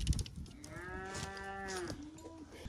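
A loose cow on a farm gives one long, clear moo that rises and falls over about two seconds, fairly close, with faint outdoor background and no talk.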